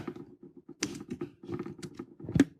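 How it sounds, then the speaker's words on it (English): Irregular keystrokes on a computer keyboard clatter along in short bursts with brief pauses, close and moderately loud, with no voices. "I have a weird keyboard layout. I can't type with one hand."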